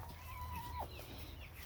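Chickens in a backyard coop give a drawn-out cluck that bends upward at the end, with faint scattered clucks after it, all close by against a steady low background hum.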